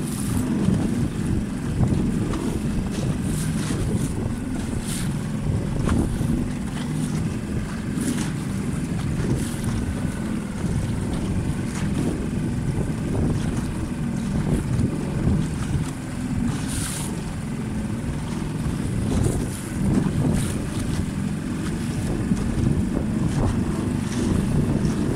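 Strong wind roars steadily across the microphone, with water slapping and rushing against the hull of a small Optimist sailing dinghy throughout.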